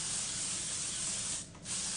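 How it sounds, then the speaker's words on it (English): Gold Lust Dry Heat Protection Spray is misted onto hair in a continuous, close, airy hiss. The spray pauses briefly near the end, then resumes, with no one speaking. "This is the Gold Lust Dry Heat Protection Spray."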